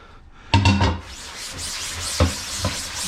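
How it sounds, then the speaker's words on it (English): Scrubbing across the surface of a screen-printing screen being reclaimed with screen filler, a close, steady rubbing with a louder burst of strokes near the start and a couple of brief accents later. "scrub this good all over the entire surface"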